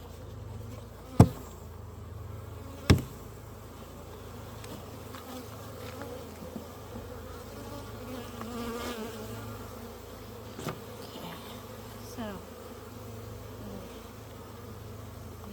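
Worker honey bees buzz steadily in a low, continuous hum at an opened hive, with a couple of sharp knocks and faint clicks breaking through.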